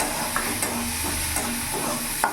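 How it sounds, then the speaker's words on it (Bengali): Tomato with salt, turmeric and chilli powder stirred in a hot pan, a continuous sizzle with a few brief scrapes of the spoon, close and alone. "এবার ভালো করে আমি নাড়াচাড়া করে নেব"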